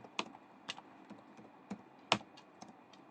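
A computer keyboard clicks as Python code is typed, with a handful of separate, fairly quiet keystrokes spaced irregularly and no voices.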